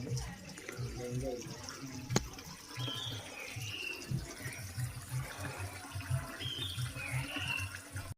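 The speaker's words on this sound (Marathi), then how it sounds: "आता या गोमुखीतून ही गंगा बाहेर आलेली आहे" Spring water pours from a cow-mouth stone spout at a Ganga shrine in Dalvi Wadi, Dahibav, Devgad: a continuous close splashing flow that is fairly quiet, with a voice talking faintly over it and a short sharp click near the middle.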